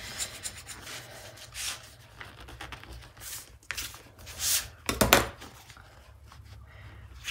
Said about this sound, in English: I'll give this a really good burnish down